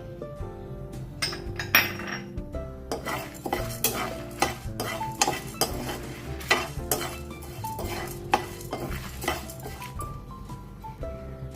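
A utensil stirs lentils and raw rice dry roasting in a pan, giving quick, sharp scraping and clinking strokes in an irregular rhythm, close and clear over a faint tonal background.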